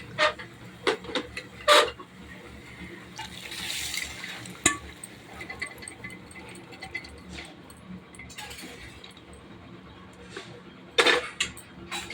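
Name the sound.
boiled peas being added to the pot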